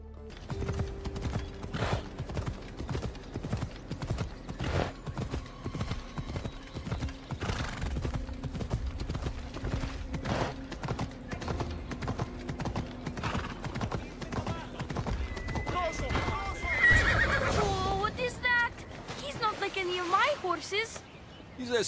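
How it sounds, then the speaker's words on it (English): Hades' dark horse in Assassin's Creed Odyssey gallops with a rapid, steady clip-clop of hooves, then lets out a loud whinny near the end, while voices talk over the hoofbeats. "A special horse and belongs to Hades."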